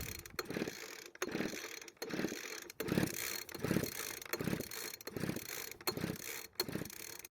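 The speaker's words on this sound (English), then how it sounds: "squeeze the trigger, and pull the rope several times" A leaf blower engine with a compression tester screwed into the spark plug hole is cranked by its starter rope several times, giving repeated rhythmic ratcheting pulls, about nine in a row, close and fairly loud with no talk.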